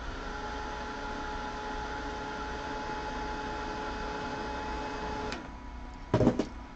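A dryer blows on wet paint on a painting, giving a steady, close whooshing hum that runs for several seconds, then cuts off and is followed by a brief clatter.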